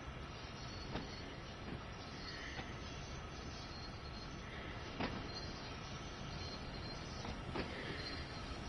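Freight train on Sand Patch Grade in the video game Train Sim World 2 on PS5: a steady broadband rumble of rolling stock and engine noise with faint periodic clanks, continuous and moderately distant.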